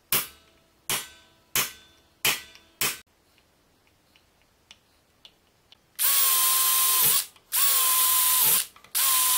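A few sharp tool clicks come first, then a power drill whines loudly in two long bursts with a brief pause between, close by, drilling bolt holes in metal.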